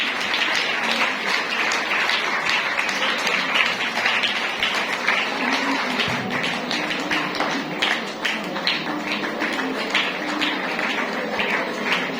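Sustained applause from an audience at a Women's Day parish event, a steady dense clatter of clapping running the whole time without letup.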